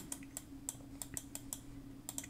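Computer keyboard keys are tapped in an uneven run of crisp, close clicks, about a dozen strokes with short pauses, alone over a faint room hum.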